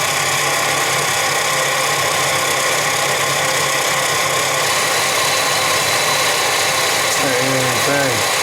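A machine cutting a light three-thousandths pass on a part for a Boll Aero diesel model engine, a steady broadband whirring hum running throughout with a brief tonal squeal near the end.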